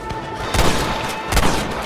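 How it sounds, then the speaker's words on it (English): Bursts of gunfire from enemies shooting down from above in the Red Dead Redemption video game, two heavy clustered volleys about a second apart, loud and close. "They're shooting down on us!"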